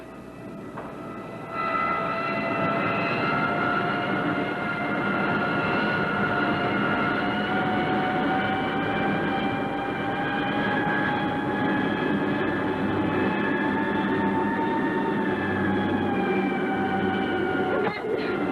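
Sound effect from an old space-patrol film of an aircraft pulling out of a power dive: a loud, sustained whining engine tone that holds steady, rising slightly in pitch before dropping near the end, with no voices.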